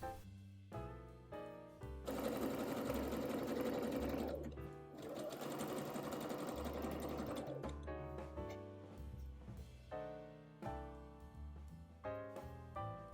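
A sewing machine zigzags or overlocks a knit dress's neckline facing to the neckline, running in rapid bursts with steady stitching in the middle and short ticking stops and starts around it, close and with no talking.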